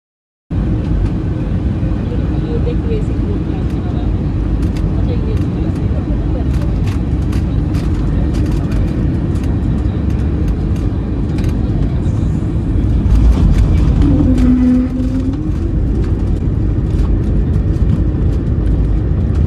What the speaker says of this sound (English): Coming in from the west, we had a very smooth landing on runway 10.